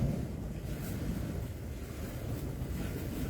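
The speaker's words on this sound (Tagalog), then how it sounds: "Lakas na ng alon, ha?" Strong sea waves at Po Toi O beach in Hong Kong, a continuous rumbling wash of surf mixed with wind buffeting the microphone, steady and fairly close with no talk.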